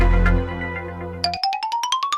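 A phone placing a call gives a short series of rising electronic beeps, like a ringtone melody, close and clear after a low steady hum fades out.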